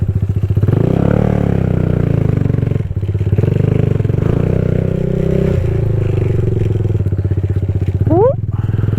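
A small Kawasaki Z125 motorcycle runs steady and loud at close range, its single-cylinder engine drone holding under a voice, with a rising rev near the end.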